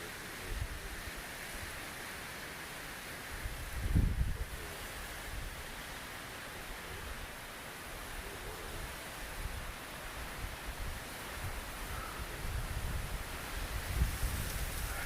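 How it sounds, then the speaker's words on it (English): Steady breezy wind blows across an exposed mountaintop at about 5,849 feet in Great Smoky Mountains National Park, a constant broadband rush with slight gusts that swell and ease, with no voices. "A little breezy out."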